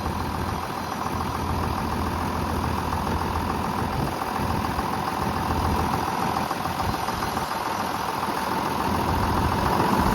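A steady engine drone from a front-mounted log splitter on an old John Deere tractor runs throughout, a constant mid-to-low rumble with a rhythmic idling texture, close and loud, with no voices.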